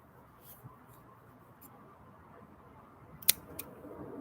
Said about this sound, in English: if I can get my scissors